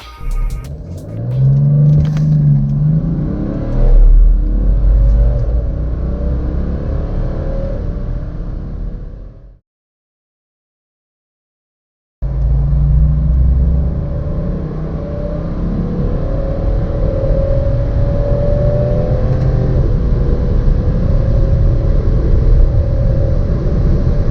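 A chip-tuned BMW X4 35d diesel pulls hard from 100 to 200 km/h, its engine note climbing through gears with rising whine and road roar, broken by a short silent gap before the loud acceleration resumes.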